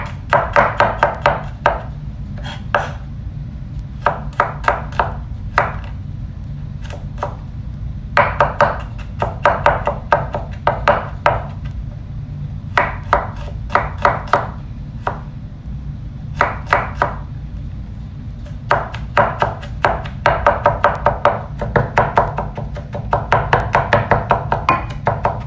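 White and red onions are chopped on a board, a close, crisp run of rapid knife taps in quick clusters separated by short pauses over a low background hum.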